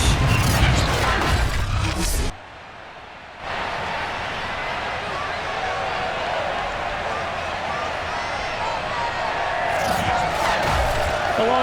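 A home stadium crowd at a Jets–Dolphins game in Madden 22 on PS5 gives a loud, steady roar throughout, briefly dropping out for about a second before returning, with commentators talking over it.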